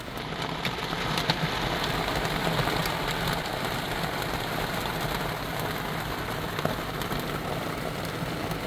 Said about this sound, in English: Oh boy, that rain is coming down.